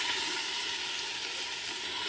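Tomatoes and spices frying and being stirred in a pan for a chicken curry, a soft continuous hiss and sizzle heard close and steady with no voices.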